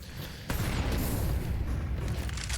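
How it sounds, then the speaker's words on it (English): A Counter-Strike incendiary fire bomb bursts with a sudden loud whoosh and boom, then a sustained roaring crackle of flames spreading and burning close by. "These little dinky CT fire bombs."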